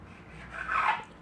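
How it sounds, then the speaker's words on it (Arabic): A knife slices the crusts off soft pain de mie sandwich bread, a short dry rasping scrape that swells briefly in the middle of the cut, close and fairly quiet. "هنايا عندي بان دومي، حبيت باش نقص نحي لي كوتي هذوما هكا"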